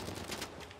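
Brief burst of rapid gunfire from the video game Uncharted 4, several quick shots in under a second at moderate level with no talk.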